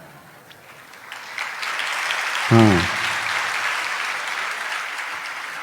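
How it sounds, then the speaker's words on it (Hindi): An audience claps together in sustained, moderately loud applause, with a short spoken interjection near the middle. "अब तालियां बजाते हमारे लिए बजाते हैं, स्वयं के लिए बजाते?"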